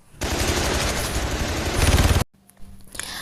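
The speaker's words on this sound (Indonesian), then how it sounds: "Hanya beberapa detik sebelum pasukan cadangan menembak Shane sampai mati." A dense burst of rapid automatic gunfire in a film rattles continuously for about two seconds, then stops abruptly, followed by quieter scattered sounds.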